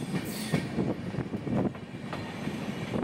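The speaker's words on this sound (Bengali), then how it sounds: "ট্রেন আগরতলা স্টেশন ছেড়ে রওনা হওয়ার" The Agartala–Deoghar Weekly Express pulls out of Agartala station, its wheels rumbling and clacking rhythmically over the rails in a steady, close, continuous roll.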